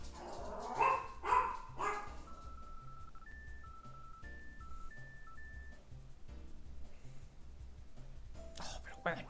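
A dog in the room lets out a few sharp barks, close and loud at first, followed by quieter game music beeps and someone talking.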